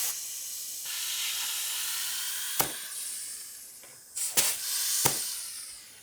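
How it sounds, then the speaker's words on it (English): Air hisses steadily out of the relief valve on an overfilled budget pump sprayer for rinseless car washing, a continuous close spray-like rush broken by a few sharp louder bursts near the end. "as soon as we overfill it, it's actually just coming out the relief valve just like it should"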